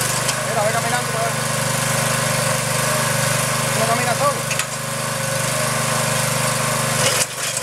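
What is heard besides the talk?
small engine running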